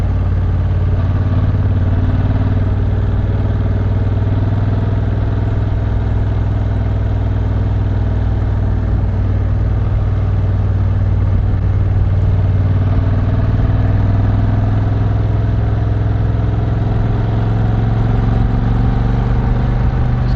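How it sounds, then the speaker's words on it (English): A motorcycle with an 1100cc engine idles close by on a mountain ride toward Jebel Jais, its low, even rumble holding steady and unbroken throughout. "Glad I've got my 1100cc engine here."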